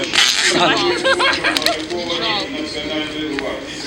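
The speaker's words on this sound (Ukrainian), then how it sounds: "Це пес е, дуже активний." A lively dog barks and yips at a crowded street rally in Kyiv, its short calls mixed in with close, steady talk and crowd noise.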